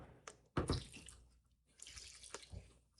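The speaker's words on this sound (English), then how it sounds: "I'm washing the blender" Tap water runs and splashes while a blender jar is rinsed out after blending broccoli soup, with uneven bursts of spattering and dripping at close range.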